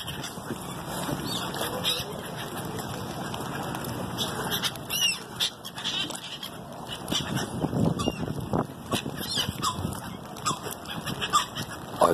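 Seagulls and gull chicks crowd around a fishing boat, their cries and calls overlapping in a busy, irregular chorus over a steady background hum.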